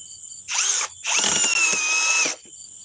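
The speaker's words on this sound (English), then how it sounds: "I got 2 really high-end German drills" A high-end German power drill runs in two bursts, a short whir and then a longer high-pitched whine held steady for over a second before stopping, close and loud with no talk over it.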